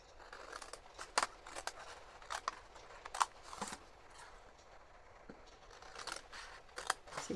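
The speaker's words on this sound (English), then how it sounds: "So you're just cutting along those folds" Scissors cutting along the folds of paper for an accordion photo box, a series of close, crisp snipping clicks at an uneven rhythm, fairly quiet with no talk.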